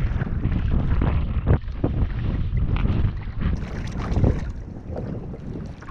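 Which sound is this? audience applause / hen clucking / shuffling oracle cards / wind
wind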